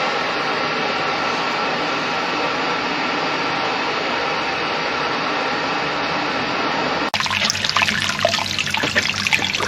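Hot brewing liquor from a homebrew liquor tank pours steadily into a mash tun of grain, a continuous close rushing trickle that shifts to a brighter, splashier flow near the end.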